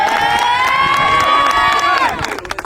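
A 10-and-under youth team in the D1 Nation Spring League championship, Legacy U Hurricanes, cheers after a game. A loud, sustained group whoop rings out for about two seconds, then breaks into a few quick claps.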